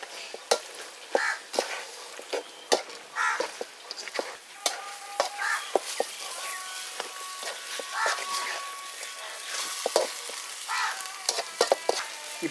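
Masala paste is stirred into a sizzling village chicken gravy, with a spoon scraping and clacking in irregular bursts over a low, steady frying hiss.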